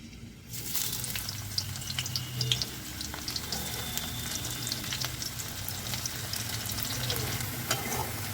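Chopped onions fry in hot mustard oil in a heavy pan, a dense steady sizzle that rises sharply as they drop in and then holds loud and close, with occasional light stirring scrapes.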